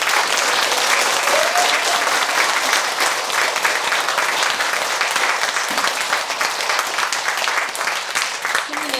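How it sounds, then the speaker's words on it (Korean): A large audience gives sustained, loud applause after a long Buddhist dharma talk by a monk at a Seon meditation center. The dense clapping continues without a break for about nine seconds. "장시간에 걸쳐서 법문을 해주신 원재 스님께 더 큰 박수로 받아주세요."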